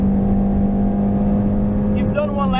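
2018 Jaguar F-Type S with a 380 hp engine driven flat out on a racetrack, its steady loud engine drone holding a constant pitch, with a voice coming in near the end.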